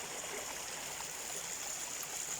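A stream flows steadily with a continuous, soft babble and trickle of moving water, even and unbroken throughout, with no voices over it.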